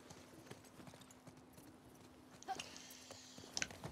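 Horse hooves clip-clop softly in The Last of Us Part II, a faint patter of steps under quiet game ambience, followed near the end by a few brighter clinking pickup sounds.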